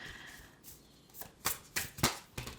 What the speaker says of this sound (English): I will be shuffling up the Philly Tarot